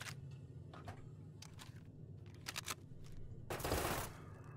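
Several short bursts from an automatic, SMG-like nail-firing weapon in Fallout New Vegas chatter quietly and in quick succession, ending in a longer, louder burst near the end.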